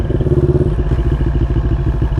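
A motorcycle engine runs loud and close on the road, a rapid throbbing putter with rattly clatter that shifts slightly as it revs.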